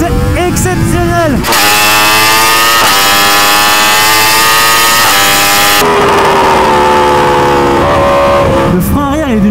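A 2021 Yamaha R1M, decatted and fitted with an Akrapovic full exhaust, roars loud and close at speed, its pitch rising through gear changes, while a voice talks briefly before and after the engine noise.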